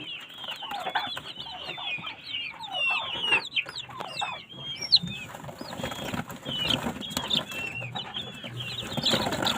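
A crowd of day-old local-breed baby chicks chirping constantly, with dense overlapping high-pitched peeps close by, a steady busy chorus with small scuffling noises underneath.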